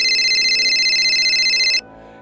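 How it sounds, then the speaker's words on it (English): A phone rings in a steady electronic ringtone, loud and close, for nearly two seconds before cutting off abruptly into quiet room tone. "his phone rings"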